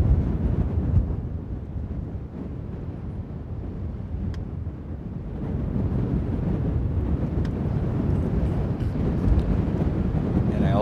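Synthesized wind gusts made with Unreal Engine 5 MetaSounds: steady rushing wind with broad low rumble, swelling slightly in gusts, continuous and fairly loud throughout.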